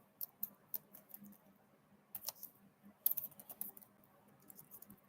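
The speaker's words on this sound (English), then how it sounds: "I'm gonna type 1." Light, irregular keyboard typing on a computer, soft clicks and taps scattered across a quiet room with no talk.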